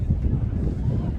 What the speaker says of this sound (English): we just got a serious gust of wind here.